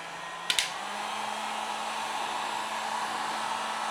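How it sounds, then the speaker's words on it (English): A heat gun blows a steady, even broadband rush of hot air onto the adhesive of LED backlight strips in an LG 55LB5900 TV, with two sharp clicks near the start and no voices. "If you've got a paint gun, go ahead and grab it."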